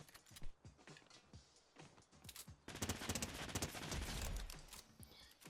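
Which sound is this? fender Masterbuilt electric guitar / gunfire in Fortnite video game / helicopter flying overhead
gunfire in Fortnite video game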